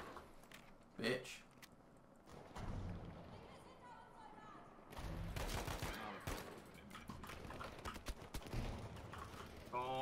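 Gunfire crackles through a Battlefield V multiplayer match in scattered bursts of shots, some near and sharp, others more distant, mixed with battlefield noise and a player talking over it.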